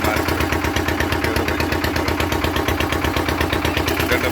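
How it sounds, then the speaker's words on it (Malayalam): A generator engine runs steadily aboard a river boat at the India–Bangladesh border, giving a close, loud, evenly pulsing mechanical drone that continues without a break. "ജനറേറ്ററിൻ്റെ സിസ്റ്റമാണ് ഇത്."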